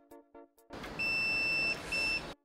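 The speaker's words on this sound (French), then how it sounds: "maintenant je mets mon multimètre en mode testeur de continuité, c'est-à-dire qu'il fait bip lorsqu'il y a continuité" A multimeter set to continuity-test mode beeps as a screw is brought to an engine crankshaft or camshaft position sensor: a few soft taps, then a long steady electronic beep and a shorter second one over background hiss.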